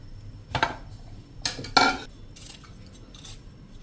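Vegetables being finely chopped in a hand chopper for sorghum pulav give a few sharp clattering bursts of blades and plastic, two close together in the middle, then softer rattles trailing off, near and without talk.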